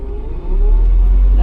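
Nissan 240sx engine revving up as the clutch is let out, a loud, steady close-up engine drone that swells after a brief dip.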